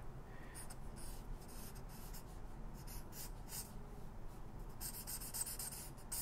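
A felt-tip marker rubs and squeaks steadily across paper, close and continuous, with scratchy strokes and no talking.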